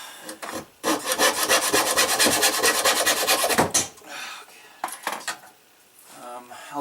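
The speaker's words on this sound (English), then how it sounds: "Use a hand scroll saw." A hand scroll saw rasps through a thin wooden paint stick in quick, steady back-and-forth strokes, close and dry, with a few scattered scrapes and taps before and after the main burst of cutting.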